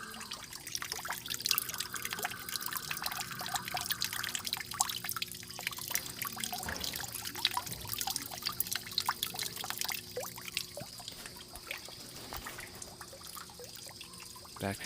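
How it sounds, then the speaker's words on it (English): Gentle flowing water in a San Francisco flower conservatory, a steady soft trickle with scattered drips, fairly quiet and close, no speech. "enjoy the sound of this flowing water"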